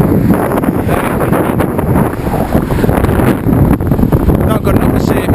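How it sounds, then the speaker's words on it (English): Loud, continuous wind buffeting the microphone outdoors in Cannes, a rough roaring rumble that fills the whole stretch. "Windy."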